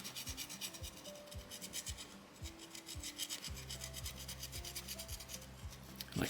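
Hand rasp filing a soapstone owl carving, gritty scraping strokes in a fast steady back-and-forth rhythm, close and fairly quiet, with no talking.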